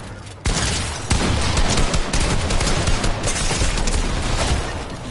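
Fortnite gunfire, loud rapid bursts of shots starting abruptly and continuing in a dense, sustained barrage with sharp cracks and booms, close and forceful.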